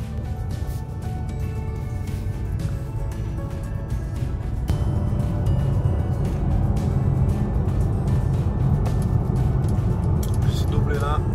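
A Mercedes EQA 350 electric car rolls onto the motorway with a steady low road and tyre rumble inside the cabin that grows slightly louder partway through, while someone talks over it.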